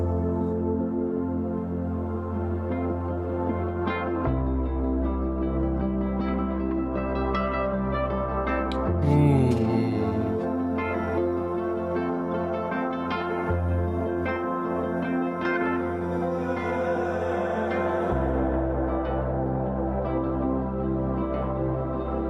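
A guitar rings out in shimmering, sustained ethereal tones over a low drone, smooth and continuous with no voices.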